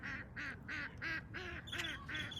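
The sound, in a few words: fussy bird calling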